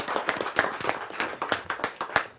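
Clapping from the audience at a Hindi kavi sammelan poetry gathering as a poet is welcomed, a fairly sparse, uneven patter of individual hand claps, close and moderately loud, with no speech over it.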